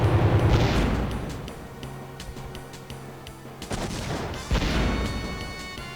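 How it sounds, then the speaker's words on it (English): Hand cannon shots in the Wild Arms video game, a loud burst of gunfire-like blasts at the start followed by further sharp impact hits and booms, with game music underneath. "I'm just going to keep hitting with the hand cannon and see what happens."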